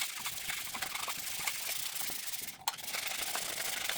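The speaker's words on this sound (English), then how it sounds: "so now we have this all sanded and pretty smooth" Car headlight lens being sanded by hand with 400 grit sandpaper, a dense continuous abrasive rasp with quick back-and-forth strokes and a brief pause near the middle, close and steady.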